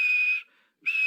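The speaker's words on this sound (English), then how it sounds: "And he blew his whistle." A steam engine's whistle gives two loud, piercing blasts, the first held steadily before cutting off and a second starting after a brief silence.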